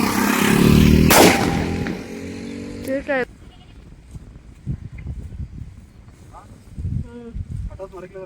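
A Diwali firecracker goes off with a loud, sharp bang near the start, trailing into crackling debris and rumble, followed by quieter bleating and scattered voices.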